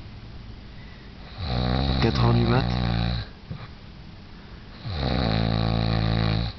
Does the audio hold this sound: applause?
no